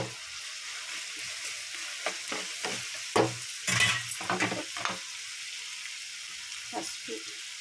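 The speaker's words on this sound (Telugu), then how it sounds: "ఉల్లిపాయ టమాటా ముక్కలు కూడా అన్నీ ఒకసారి వేసేస్తామండి." Onions, tomatoes and ginger-garlic paste fry in a pan, giving a steady sizzle broken by several scraping stirs of a spoon, close and moderately loud, with no one talking.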